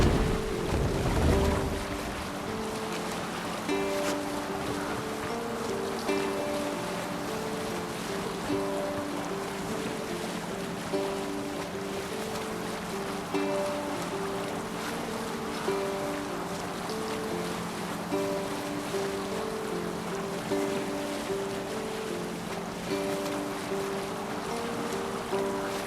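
A Viking sailing ship moving across the sea in Assassin's Creed Valhalla, with a constant rush of waves and wind around the hull and a steady low tonal drone underneath, heard alone without voices.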